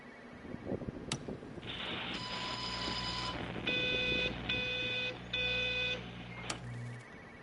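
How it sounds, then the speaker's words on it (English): A phone rings in Everybody's Gone to The Rapture in electronic tonal bursts: one steady tone, then three evenly spaced pulses, clear and fairly loud over soft ambient game sound. "What phone is that?"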